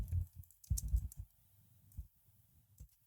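Someone types a product name on a computer keyboard, producing a few quick clusters of close, soft key taps with short pauses between them. The room is otherwise quiet.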